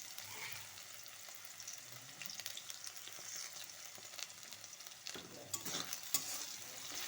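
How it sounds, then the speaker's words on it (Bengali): Okra frying in a pan while being stirred, with a steady faint sizzle under close scraping and clattering strokes that come in irregular bursts. "ঢ্যাঁড়স সুন্দরভাবে ভাজা হয়ে গেছে"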